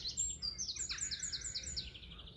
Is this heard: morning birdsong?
yes